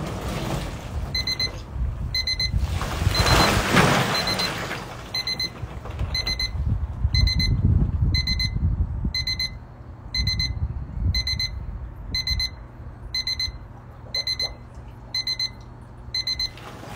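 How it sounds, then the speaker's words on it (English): A timer for an ice bath beeps in repeated short bursts of rapid high-pitched pulses, sounding regularly over background noise and some rustling movement. "It's about to beep. I'm going to go under when it beeps."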